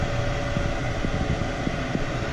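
Gas furnace on a Lennox unit firing up with its blower fan running, a steady broadband whoosh and hum filling the space, close and even, with faint clicks and no speech.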